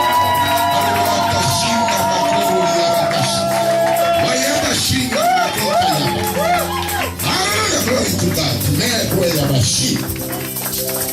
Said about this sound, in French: À manifester cela par les acclamations